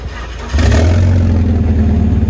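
A BMW engine with its catalytic converter partly removed by thieves cranks and bursts into life, settling into a loud, raw, rattly idle close by.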